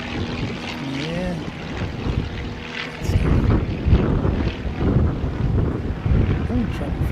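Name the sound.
Italian C-130 turboprop aircraft taking off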